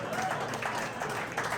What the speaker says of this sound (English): Let's give Evan a little more round of applause